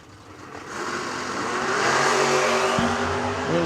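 A blue Camaro drag racing car at a drag strip event, its engine rising in a steady, building roar that grows louder and closer over a few seconds, with a rising tone near the end.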